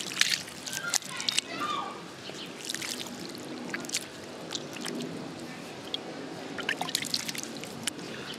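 Water splashing and trickling as feet are rinsed after exfoliation, with intermittent sloshes, drips and sharp splashes over a steady wash of running water, close and moderately loud, with a voice talking now and then.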